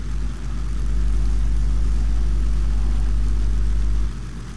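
An Avro Lancaster bomber in landing configuration, landing gear lowered and flaps raised, gives a loud, steady piston-engine drone with propeller rumble that holds for about four seconds and then eases off slightly.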